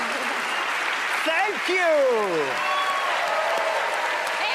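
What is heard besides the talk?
audience applause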